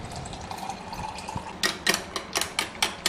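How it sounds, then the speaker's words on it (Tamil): Water splashes and sloshes into a bowl of maida flour while it is stirred by hand, soft trickling first and then a run of quick wet slaps and stirring strokes close by. "தண்ணி ஊற்றி கட்டி பிடிக்காமல் கலந்து விட்டுறணும்."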